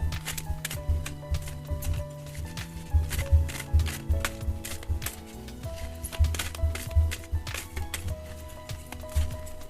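Oracle and tarot cards are shuffled close up in quick, repeated riffling bursts with soft flicks and slaps, over a faint steady musical tone.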